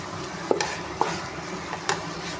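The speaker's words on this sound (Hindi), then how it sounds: "अब इसको मिक्स करूँगी इसके अंदर।" Arvi being stirred into a sizzling gravy masala in a pan, with a steady frying hiss and a few distinct scrapes and knocks of the spoon, close up and without talking.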